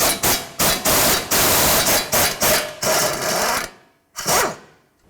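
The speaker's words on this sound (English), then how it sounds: "We want to remove that, and then we're going to remove the nut." Loud bursts of a power tool working on the outer tie rod end of a 2006-12 Ford Fusion to take off its nut. The bursts come in rapid, choppy pulses, then there is a long whir, a pause, and one last short burst.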